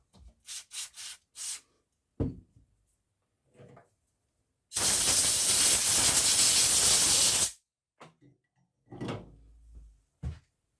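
Carb cleaner sprays onto the carburettor of a Mountfield SP536 lawnmower that was stored for over nine years, a loud close hiss lasting about three seconds between short knocks and handling clatter.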